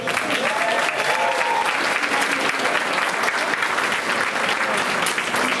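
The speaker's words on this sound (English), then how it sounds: "how about one more round of applause for all of us?" Audience applause at a school board meeting, a steady, full round of clapping from many people in a room that continues evenly for several seconds without a break.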